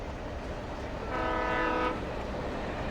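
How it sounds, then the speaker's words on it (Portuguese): A train's horn sounds in the video game Alan Wake Remastered, a sustained tonal blast rising over a steady rumbling rail and ambient noise bed, fairly loud and lasting under a second. "O trem!"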